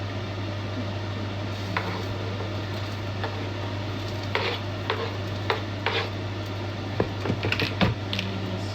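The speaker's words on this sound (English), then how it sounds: "the pot is already there, and I put my chicken already there, and I'm just going to stir it" Chicken with seasoning and onions is stirred in a pot, giving soft scraping and clinking strokes at an irregular pace over a steady low appliance hum.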